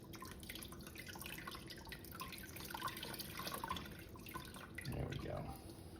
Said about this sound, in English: we're gonna rinse this with distilled water.